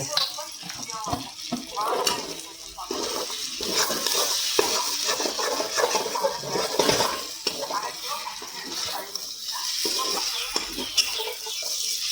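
Village-style mutton fries in oil in a pan with a busy, crackling sizzle and frequent stirring scrapes, loud and close, with a voice talking over it at times.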